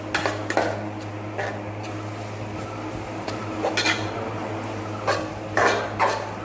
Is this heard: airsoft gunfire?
no